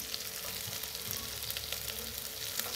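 Vegetables sautéing in a pan for cauliflower biryani give a steady, even sizzle, close and moderately quiet, with faint scrapes of stirring and no speech.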